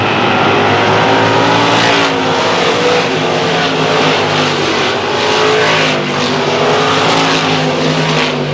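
Race cars roar around a dirt oval, engines droning and revving steadily at close range, the loud, continuous motor noise swelling and easing slightly as the pack passes, with no talk.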